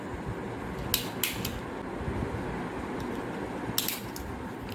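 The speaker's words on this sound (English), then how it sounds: "I'll just staple it." A stapler drives staples through a cloth bag strap, making a few sharp, separate clicks over a quiet background hiss.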